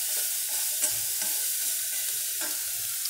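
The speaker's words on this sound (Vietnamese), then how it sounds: "mình cho mỡ vào, mình khi mình lại chiên cho con tôm nó săn lại" Dried shrimp sizzle in hot fat in a pan, with steady frying crackle and intermittent scraping stirs of a utensil, close and continuous without talk.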